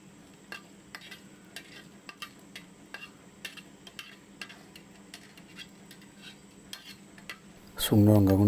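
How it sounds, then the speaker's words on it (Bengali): Dried red chillies frying in a pan while being stirred, a quiet, faint sizzle with regular light taps and scrapes of a utensil, then a voice cuts in loudly near the end. "শুকনো লঙ্কাগুলোকে এবার ফ্রাই করে নিচ্ছি"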